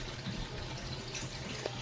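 A pond pump in a pool-pond build sends water flowing and splashing in a steady, fairly loud broadband rush with no pauses, heard up close.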